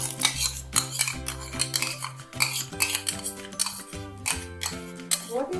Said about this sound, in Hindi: मसालों को आपस में मिक्स कर देंगे।